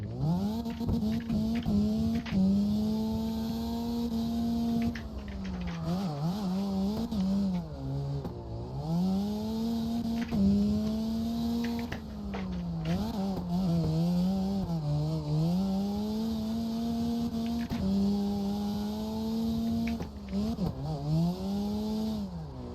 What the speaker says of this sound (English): when I get back on throttle, it just drives out of the turn